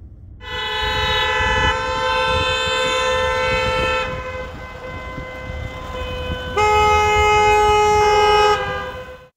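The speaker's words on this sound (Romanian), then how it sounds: "șoferii care circulau spre alte localități au început să claxoneze iritați" Car horns blaring from drivers queued at a gas station, long loud continuous honks overlapping one another, with a brief drop before another sustained blast, no talk.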